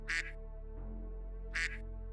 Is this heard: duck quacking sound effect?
yes